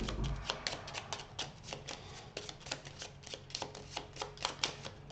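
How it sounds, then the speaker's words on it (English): A deck of cards for the board game Viscounts of the West Kingdom is shuffled by hand on a tabletop, a rapid, close riffling patter that runs continuously without talk. "So I shuffle these up."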